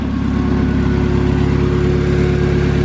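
Steady, loud idle hum of a car's stock engine on stock mounts, heard close up with a constant low drone and no talking.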